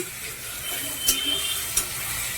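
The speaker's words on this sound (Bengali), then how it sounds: "তেলটা গরম হলে তেলে আলু দিয়ে দিয়েছি, একটু নুন দিয়ে দিলাম, দিয়ে হালকা আলুটা ভেজে নিচ্ছি।" Potato pieces frying lightly in hot oil with a pinch of salt on a gas stove, a soft steady sizzle with two brief clinks from stirring.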